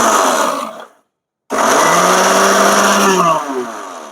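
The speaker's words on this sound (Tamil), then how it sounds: "முதல்ல இதை ஒரு சுத்த அரைச்சிக்கலாம்." Mixer grinder whirring loudly as it blends mint leaves for chutney, a steady high-speed roar that cuts out briefly for half a second, then starts again and runs on, easing slightly toward the end.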